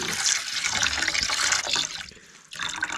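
Bottled water is poured and swirled in a cooking pot at a campsite, a close splashing rush that briefly stops and then starts again, with no talking.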